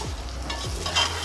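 Minced mutton qeema fries in a pan, a steady close sizzle with soft stirring scrapes throughout, no voices.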